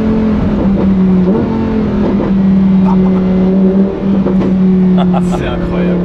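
Lamborghini Huracan EVO V10 holding around 4000 rpm in sixth gear, a loud, steady engine drone with a strong low hum and brief surges, heard close from inside the car while a person talks over it.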